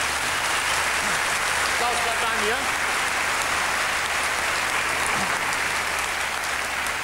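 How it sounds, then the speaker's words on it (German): A studio audience at a 1987 German TV game show claps loudly and steadily for the stage crew, a thick wash of hand claps with a man's brief remark heard over it. "Vielleicht ein kleiner Applaus an unsere Bühnenarbeiter."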